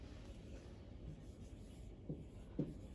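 Faint marker or chalk strokes on a board during an HTML lesson, a few soft scratchy scrapes in a quiet room, close and alone with no talking.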